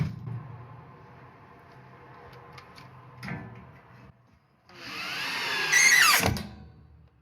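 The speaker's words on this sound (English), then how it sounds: "try and put as many screws as I can into it" Power drill driving screws into a vocal booth panel, with a quiet low hum at first, a short burst around three seconds, then a loud, close, rising whine that peaks and stops abruptly.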